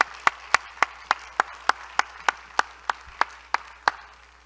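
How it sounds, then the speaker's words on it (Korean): A church congregation applauding during a flower presentation, a slow steady rhythm of about fifteen distinct, crisp claps, close and evenly spaced with little crowd noise behind. "우리 박수하겠습니다"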